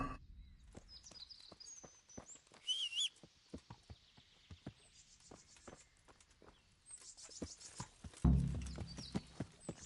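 A horse's hooves clip-clop in a steady walking rhythm while riding in the Kingdom Come: Deliverance video game, with faint birdsong and a brief whinny-like burst near the end.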